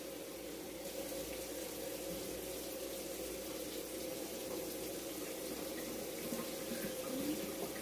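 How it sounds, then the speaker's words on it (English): Tap water runs steadily from a kitchen faucet into a cup, a soft continuous splashing stream that stays quiet and even throughout, with no talking. "so let me get my cup here, get this water going."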